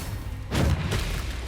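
A Bombarda spell explodes in the Hogwarts Legacy video game: one deep, heavy boom bursts over a steady background, then a rumbling tail fades away.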